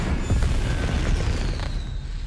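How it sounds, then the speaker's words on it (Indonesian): Fireworks burst in Hogwarts Legacy with a dense rumble of deep booms and crackling pops, loud and close, and the rumble fades toward the end. "Ternyata kembang api."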